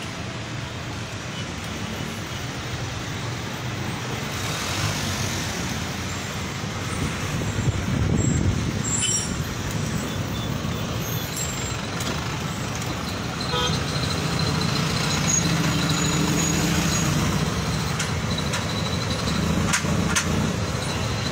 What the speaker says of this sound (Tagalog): Masyado ma-traffic.